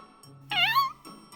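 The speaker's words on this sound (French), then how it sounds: "Pourquoi y a-t-il un chaton dans la cour?" A kitten in a courtyard gives a single clear, drawn-out meow, close and fairly loud against a quiet background, with a faint trailing sound after it.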